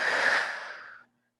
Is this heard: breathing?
yes